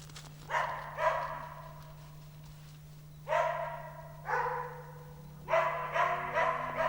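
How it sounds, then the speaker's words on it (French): Large white guardian sheepdogs (patous) working with a sheep flock bark in short clustered bursts, several rough barks spaced across a few seconds, moderately near, over a low steady background hum. "Les patous, grands chiens de berger blancs qui font partie du troupeau et le protègent"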